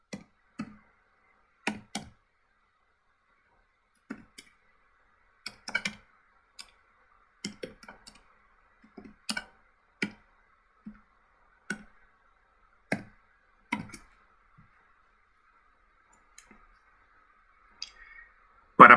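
A computer mouse and keyboard click sparsely in an otherwise quiet room, with single and double clicks and light keystrokes scattered irregularly, near and soft.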